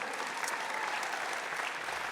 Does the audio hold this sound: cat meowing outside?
no